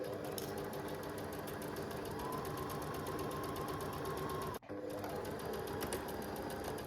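A sewing machine stitches a fabric seam for couture dressmaking with a fast, even mechanical hum and rapid needle clatter, running continuously up close with one brief stop partway through before resuming.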